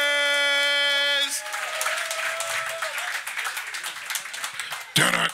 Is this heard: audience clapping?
yes